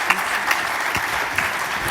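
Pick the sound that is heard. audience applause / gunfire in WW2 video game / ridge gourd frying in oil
audience applause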